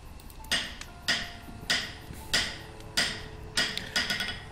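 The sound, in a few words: hammering in a video game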